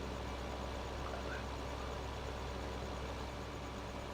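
A mowing machine engine in Farming Simulator 15 drones in a faint, steady low hum. The tone stays even and unchanging throughout, with no voices over it.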